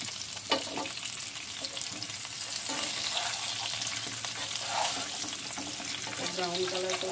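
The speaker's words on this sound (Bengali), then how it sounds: "আমি এখন এর মধ্যে ফুলকপির টুকরোগুলো দিয়ে একটু ভেজে নেব।" Cauliflower pieces frying with turmeric in a pan, a steady moderate sizzle with intermittent scraping stirs and small clinks, close and without speech.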